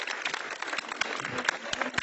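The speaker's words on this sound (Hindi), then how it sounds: "बच्ची के लिए ताली" A crowd applauds a schoolgirl at a school gathering in Mahoba district, with steady clapping from many hands at close range.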